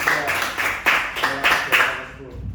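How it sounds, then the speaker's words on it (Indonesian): A class claps for a student group in a rhythmic series of about seven loud, evenly spaced bursts of many hands, fading out at the end. "silakan beri tepuk tangan buat kelompok 2"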